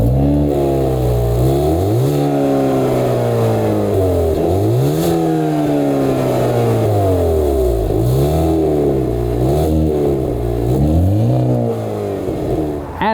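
A 2022 Hyundai Kona N-Line's engine cold-starts and revs repeatedly through its large rear exhausts, loud and close, each rev rising and falling in a steady rhythm.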